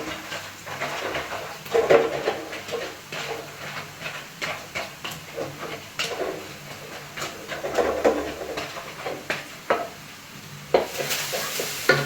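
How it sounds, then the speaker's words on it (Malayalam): Crab roast is stirred in a pan, with rhythmic scraping strokes against the pan over a continuous sizzle and hiss of the cooking masala. "നമ്മളിതുകൊണ്ടൊന്ന് മിക്സ് ചെയ്ത് കൊടുക്കാം"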